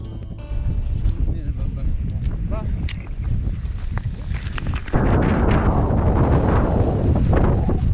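A strong, cold morning wind roars across the microphone on a mountain outing in Andorra, gusting louder partway through, with rumbling buffeting throughout.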